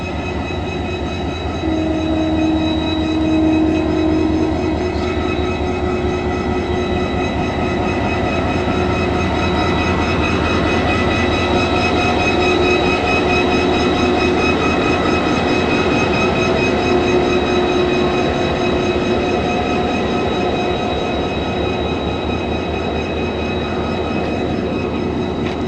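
An NLC 7142 diesel locomotive idles at Landhi Junction with a steady, loud, close drone and a low throb that holds unbroken throughout, with no speech.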